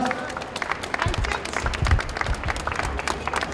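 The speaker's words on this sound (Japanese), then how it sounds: "大きな拍手でお願いしたいと思います。" Applause from a crowd at a peace march rally in Tokyo, steady clapping with some cheering across the whole stretch, close and lively.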